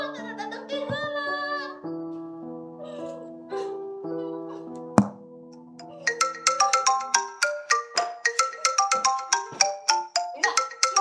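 Musical telephone ringtone from a school theatre stage performance, first a sustained melodic phrase, then after a thump a rapid repeating tone pattern that rings on loudly to the end.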